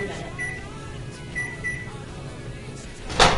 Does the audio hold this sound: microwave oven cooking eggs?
yes